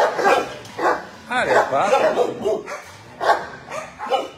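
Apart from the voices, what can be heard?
young dogs barking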